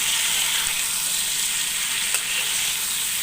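Chicken fries in a pan with onion and spices over high gas heat, giving a steady, loud, continuous sizzle with a faint crackle, close up and with no talking.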